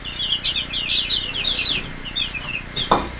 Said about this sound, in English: Chickens, chicks